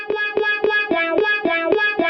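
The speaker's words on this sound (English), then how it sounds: "Then we can again turn on our arpeggiator, hold down a few notes." Arpeggiated guitar notes from an Ableton Live pack with a wah-wah effect, a rapid, evenly pulsed run of about nine plucked, processed tones repeating alone in a steady rhythm.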